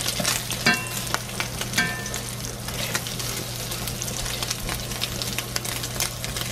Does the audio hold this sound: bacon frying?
yes